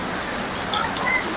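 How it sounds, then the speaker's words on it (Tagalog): Heavy rain pours down steadily, a dense, loud hiss of drops drumming on surfaces around makeshift sack-walled houses, unbroken throughout. "Sobrang lakas ng ulan."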